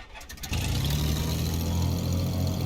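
Navion piston airplane engine starting in the X-Plane 11 flight simulator: brief cranking, then catching at once into a loud, steady, low-pitched idle drone that holds without pause.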